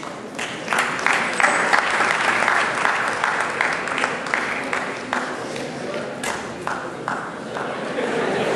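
Sustained applause from an audience at a Maitri 2010 event, a dense steady wash of clapping that holds loud and even throughout, with a few sharper individual claps standing out.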